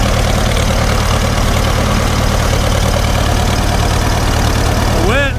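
A Farmall 350 diesel tractor engine idles loud and close with a steady low throbbing knock as it is put in gear, the beat holding even throughout and a brief rising whine near the end.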